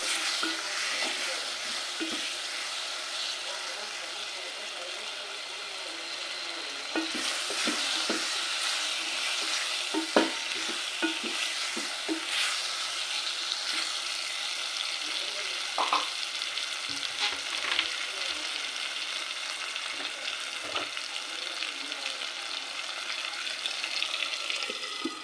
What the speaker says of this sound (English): Stir very well.